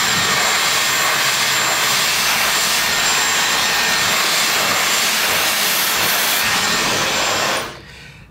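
A hair dryer blow-dries frizzy, coarse hair with a loud, steady whooshing roar held for several seconds before cutting off sharply near the end.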